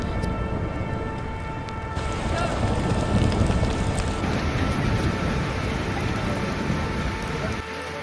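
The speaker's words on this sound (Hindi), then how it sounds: "अब तेज बारिश के साथ ओले गिरने चालू हो गए थे।" Heavy rain mixed with falling hail in the Kedarnath valley during the Kedarnath Yatra, a loud, dense, continuous roar of pelting drops that swells slightly midway and runs on with no speech.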